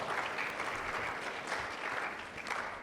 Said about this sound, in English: He got a second clap.